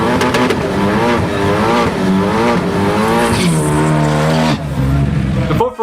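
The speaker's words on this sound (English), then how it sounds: "At number 5, we have the Ford Focus ST." A Ford Focus ST driving with a loud, steady engine note that rises and falls through revs, with sharp tonal shifts suggesting gear changes, close and continuous for the whole stretch before cutting off at the end.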